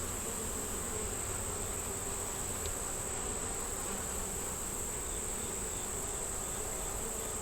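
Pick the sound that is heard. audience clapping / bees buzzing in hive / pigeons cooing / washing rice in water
bees buzzing in hive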